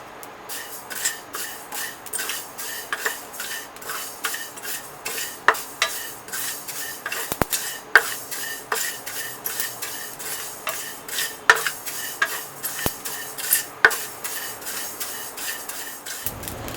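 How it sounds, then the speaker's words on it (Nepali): Black sesame and filinge seeds roast in a pan for a Nepali Gorkhe achar, a steady run of close, scratchy stirring strokes with quick crackling pops and occasional sharp clicks. "जब तिल र फिलिङ्गे यसरी पड्कन थाल्छ"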